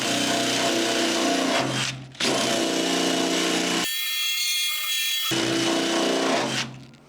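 Power tool scouring rust off the metal of a 1974 Plymouth Duster engine bay, a loud close grinding whir in several runs with brief drops, one section changing to a thinner, higher tone.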